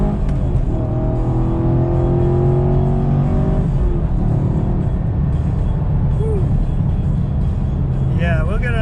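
A Chevrolet Camaro SS on new tires accelerates hard, its engine rising through the revs with a strong low roar, while a person talks over the engine noise inside the car.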